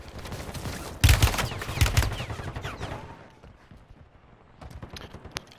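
Gunfire in a shooter video game sounds from about one to three seconds as a dense burst of overlapping shots, then fades into quieter in-game ambience with a few scattered later cracks.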